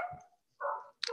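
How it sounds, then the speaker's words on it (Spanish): Dogs barking outside during a church prayer service, two or three short muffled barks at a distance, separated by brief gaps. "pero andan unos perritos"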